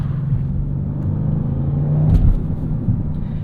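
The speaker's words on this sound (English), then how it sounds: "This is a very grunty engine." A 2024 Audi RS7 with a twin-turbo V8 gives a steady, deep engine rumble under acceleration, heard from inside the car, with a brief swell in the middle and no talking.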